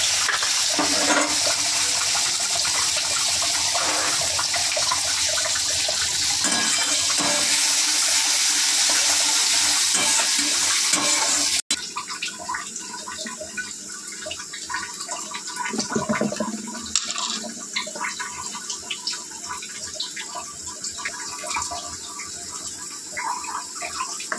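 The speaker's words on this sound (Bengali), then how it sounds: "তেল প্রচণ্ড গরম হয়ে গেছে। আমি জিরেটা দিয়ে দিলাম, কুচিয়ে রাখা পেঁয়াজ" Cumin and chopped onion hit very hot oil in a pan, a loud, steady, hissing sizzle that later settles into a quieter, uneven crackle.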